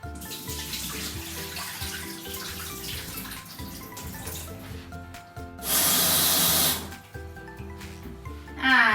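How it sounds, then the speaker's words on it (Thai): Tap water runs onto salted bitter gourd being rinsed in a sink, a steady wash that surges into a loud spraying gush for about a second before easing, with gentle music underneath. "อย่าลืมล้างเอาน้ำเกลือออกนะ"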